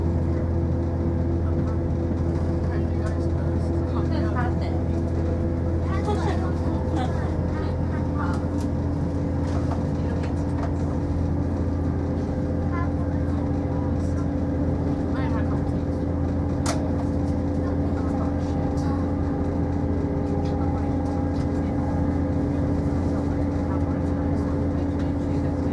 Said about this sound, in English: just had a 3-coach Turbostar, just stormed through at speed, en route from Peterborough to Ipswich.